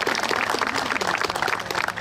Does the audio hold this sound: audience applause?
yes